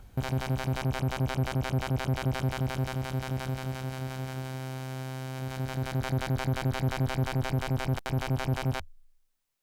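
Sylenth1 software synth playing a steady, dense arpeggiated pattern through its phaser effect as the dry-wet dial is turned, the sweeping tone thinning and returning mid-pattern, loud and continuous without talk before cutting off.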